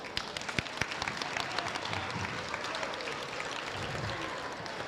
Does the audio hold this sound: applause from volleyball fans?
yes